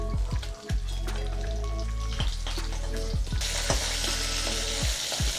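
Tilapia pieces frying in oil give a continuous close sizzle with several dull knocks and clatters of a utensil in the pan, and the hiss swells louder near the end.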